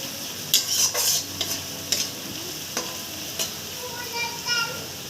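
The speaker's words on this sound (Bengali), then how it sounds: "এখানে রসুনগুলো ভাজা হচ্ছে ভাজা পর্যন্ত অপেক্ষা করা হবে" Garlic frying and being stirred in a pan for a Bengali ghugni dish: a steady sizzle under repeated scraping stir strokes, close by, with no talking.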